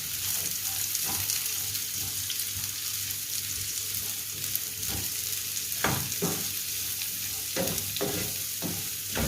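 Onions sautéing in oil in a pan while chicken sausage fry is being made, a steady close sizzle with scattered scraping stirs from a spatula throughout, no talking.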